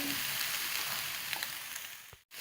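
Yellow, green and red bell peppers fry in a pan with a steady, close, hissing sizzle, a few light crackles, and a short pause near the end.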